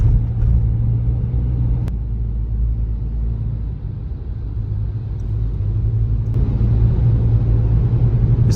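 A car drives through a single-lane road tunnel on a road trip to Abha, a loud, continuous low engine and road rumble with a couple of brief sharp knocks.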